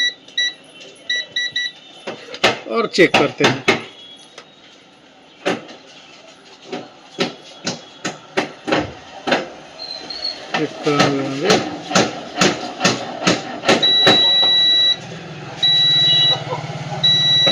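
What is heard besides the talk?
multimeter beeping in continuity (beep) mode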